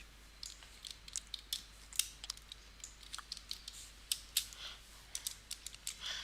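Brisk typing on a computer keyboard, a run of light, sharp key clicks in an irregular rhythm, close and fairly quiet against a faint steady hum.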